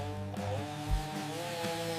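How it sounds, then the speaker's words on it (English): A small mini chainsaw carves wood into animal shapes. Its engine gives a steady, close buzzing drone that runs without a break and swells briefly near the middle, with no voices. "Precision matters, even with a small chainsaw."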